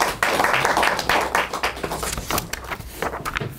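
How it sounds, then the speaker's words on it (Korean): Forum audience claps for former Seoul mayor Oh Se-hoon, a burst of close, fairly loud handclaps that continues unevenly and thins out over a few seconds. "우리 오세훈 전 서울시장님께 경의의 큰 박수"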